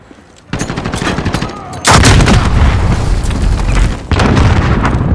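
Loud Call of Duty: Modern Warfare gunfire, with rapid automatic bursts at close range and heavy booming volleys that stop and start again, dense and continuous.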